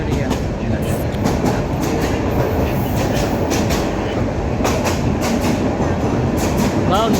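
The Subarna Express, a non-stop intercity train from Chittagong to Dhaka, runs at speed with a loud continuous rumble heard from inside the carriage and faint repeated clicks from the wheels on the rail joints.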